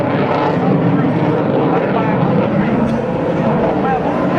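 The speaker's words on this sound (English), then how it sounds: "he'll go from a horizontal flight path to straight up, indicating this incredible agility of this very, very large and powerful aircraft" An F/A-18C Hornet jet performing an airshow demonstration manoeuvre at NAS Oceana, producing a continuous loud roar. A public-address announcer talks over it throughout.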